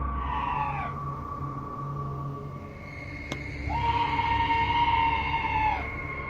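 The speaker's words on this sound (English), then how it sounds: "this scream sounds like chills made audible, happening outside the door of what appears to be a trailer" Two long wavering screams ring out near a trailer door at night, each a rising then falling wail separated by a pause, over a low steady hum with a sharp click between them.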